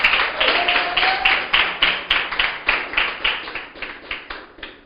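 A church congregation claps in rhythm, a loud, steady beat of many hands about three claps per second, continuing throughout with a faint voice underneath.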